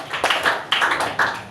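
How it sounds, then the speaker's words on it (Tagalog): Filipino Bible-study congregation clapping for the Lord, three short rhythmic bursts of group claps close together, with no voices over them. "Palakpak sa ating mahal na Panginoon."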